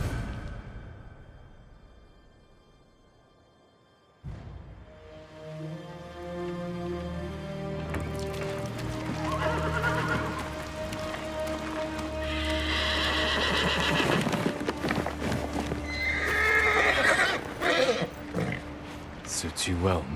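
In the video game Ghost of Tsushima, a horse whinnies and its hooves clip-clop, starting after a quiet lead-in, then building with snorts and steady hoofbeats under swelling orchestral music.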